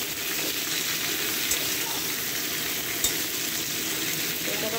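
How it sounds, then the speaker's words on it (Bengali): Vegetables fry in a wok with a loud, constant crackling sizzle close by, broken by a couple of faint utensil knocks, and no one speaks. "এটা তখন ভাজা হোক"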